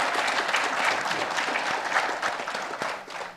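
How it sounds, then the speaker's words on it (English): A conference audience applauds a plenary panel with steady, dense clapping that stays even for the whole stretch and thins slightly near the end. "So please join me in a round of applause for our great panel."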